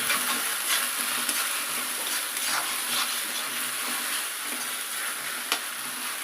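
Chicken curry sizzles in a pan on a low flame, a continuous bright frying hiss with occasional soft scrapes of stirring. The sound is loud and steady throughout with no talking.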